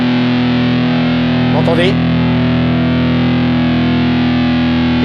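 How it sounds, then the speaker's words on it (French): Electric guitar holds a sustained power chord through an RHPF Electronics Mosferatwo overdrive/fuzz pedal, its loud distorted drone shifting in tone as the focus knob turns, with a brief spoken phrase over it. "Je vous plaque un power chord demi ici, je tourne le focus,"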